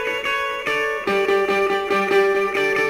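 Electric guitar plays a riff through a delay effect, a bright repeating pattern of plucked notes with echoes trailing each one, steady and fairly loud with no talking.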